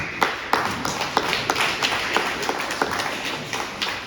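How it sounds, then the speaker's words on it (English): Audience clapping for teachers at an education gathering, a steady run of individual claps with regular rhythm, moderately loud over a busy room background. "applause for the work that you're doing."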